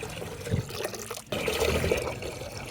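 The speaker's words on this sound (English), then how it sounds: "But I'm going to add in some water." Water is poured into a pot of corn flour, dry cassava and gari for akume, a close, continuous splashing pour that cuts briefly and then resumes more fully.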